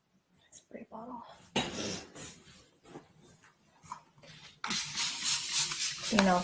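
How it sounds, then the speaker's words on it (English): A spray bottle hisses in a short, bright burst while paint is cleaned off an art workspace, following soft voice sounds and light handling noises. "Spray bottle."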